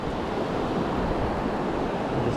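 Ocean waves washing onto a South Texas beach, a steady, loud broadband rush of surf mixed with wind buffeting the microphone, with no distinct breaks between waves.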